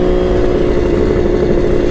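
A Kawasaki KH500 H1 two-stroke triple motorcycle engine running under a gentle roll-on in second gear, a loud steady close buzzing drone with constant clatter and no voices.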